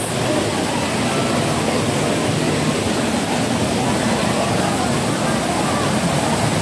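Roar of Daranak Falls, a waterfall crowded with holiday visitors, rushing as a steady, loud, unbroken wash of water close by with no break throughout.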